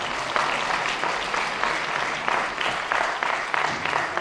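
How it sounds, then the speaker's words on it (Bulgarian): Audience applauding during a pause at the Avgustiada queen pageant in Stara Zagora, with dense sustained clapping and a few rhythmic surges, loud and continuous throughout. "В тази пауза, защо да не звучат пък аплодисменти?"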